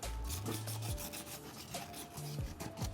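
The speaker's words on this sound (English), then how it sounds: "So first things first, I'm gonna sand down the surface on both sides. It's 80 grit." 80 grit sandpaper is rubbed back and forth over a car interior panel, producing close, rhythmic scratchy strokes with short pauses between passes.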